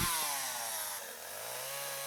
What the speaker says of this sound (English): Be sure to start all cuts with the saw at full throttle and continue the cut at full speed.